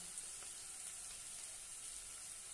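Coriander powder, turmeric, red chilli powder and salt sautéing in oil for husked moong dal make a steady, faint, even frying hiss with no talk.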